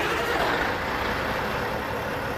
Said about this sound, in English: So we got a 550 horsepower cat engine in this thing. I want you to listen to this when I fire it up